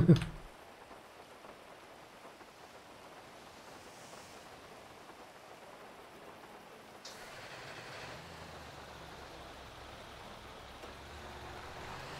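Steady rain falls outdoors in thunderstorm weather, a soft even hiss lasting throughout, with a low rumble like a passing vehicle or distant thunder joining partway through.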